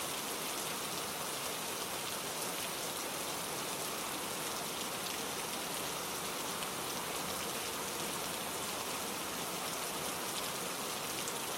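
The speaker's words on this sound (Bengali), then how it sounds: "সারা দিন বৃষ্টি, এমনকি রাতেও বৃষ্টি থামলো না।" Heavy rain pours on a cartoon village through a stormy night, a dense, steady roar of drops that stays loud and unbroken with no voices over it.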